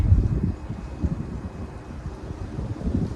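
Wind gusts outdoors at a shooting range, buffeting the microphone as a steady low rumble that swells and eases over a few seconds, with no talking.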